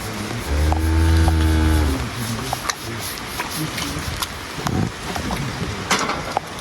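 A cow on a farm gives one long, loud, close moo, followed by scattered rustling and faint outdoor noise with wind on the microphone.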